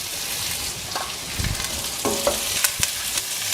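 Garlic cloves, small onions and curry leaves sizzle in hot oil while being stirred for tomato kootu, a steady close frying hiss broken by a few spoon scrapes and clinks against the pan.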